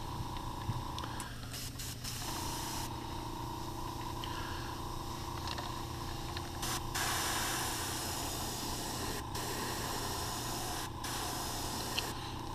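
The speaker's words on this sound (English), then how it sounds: "I'm going to spray a little bit of black on the back" An airbrush sprays black paint onto the back of a crankbait fishing lure, giving a soft, continuous hiss held at a fairly faint, even level throughout.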